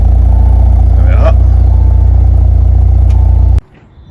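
A 2018 Audi S5 with a 3-litre twin-scroll turbo engine idles steadily and close by, a constant low rumble that cuts off abruptly near the end, with a brief clatter partway through.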